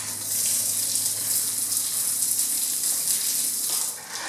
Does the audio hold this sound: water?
yes